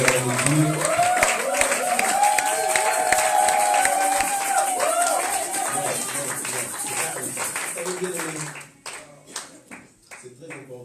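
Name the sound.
church congregation acclaiming and applauding God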